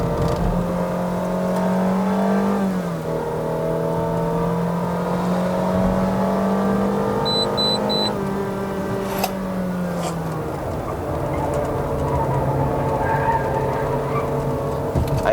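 Remapped Honda City GN2 1.5E engine revving hard on a mountain road climb, a steady droning tone that rises and falls with throttle, close and loud throughout with no talk.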